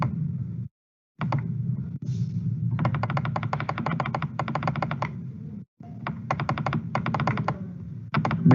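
Fingers type on a computer keyboard nearby in quick bursts of clicking keystrokes, separated by short pauses and a few heavier thunks.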